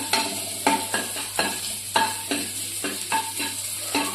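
Garlic sizzling in hot oil over a high gas flame while being stirred for stuffed bread pakoda, a close, steady crackle with rhythmic stirring strokes and no speech.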